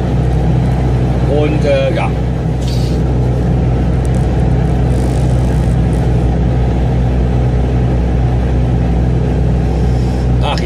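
A MAN TGX 480 truck pulls away, its engine producing a steady, loud low rumble that continues throughout, with someone talking over it.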